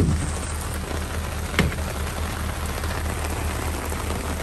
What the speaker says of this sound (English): The rain is extremely light.